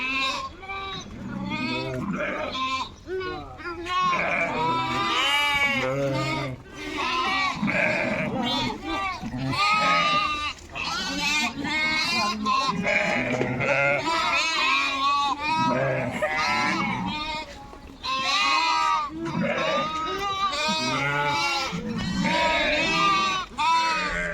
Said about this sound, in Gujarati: આ ઘેટા બકરાનું ઘર છે. બચ્ચા એમની મા પાસે જાય છે.